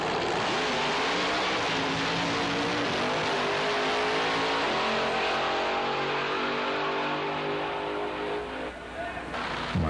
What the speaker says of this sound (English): Supercharged Thunderbird.